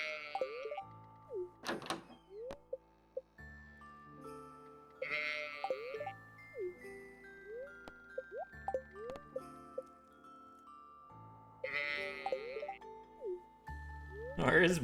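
Sheep in the Stardew Valley farming game bleat three times at steady intervals, clear and close, over a cheerful game melody with light clicks and blips.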